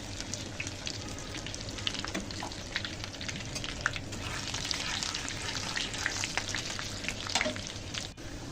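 Olives crackle and sizzle in hot oil while being made into a pickle, a continuous close frying hiss dotted with small pops and spits, with no voice over it.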